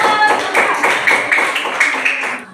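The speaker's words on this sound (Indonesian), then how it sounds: "Oke, tepuk tangan dulu buat kelompok 1." Classmates clap for a student group after its presentation in a classroom lesson, a short burst of fairly close, uneven hand claps that tapers off at the end, with no one speaking.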